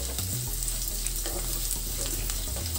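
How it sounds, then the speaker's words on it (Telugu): An onion tempering with curry leaves fries in a pan for a drumstick-leaf stir-fry, a steady, close hissing sizzle with light crackles and occasional stirring clinks, constant and unbroken with no talking. "తాలింపు బాగా ఫ్రై అయ్యింది ఫ్రెండ్స్"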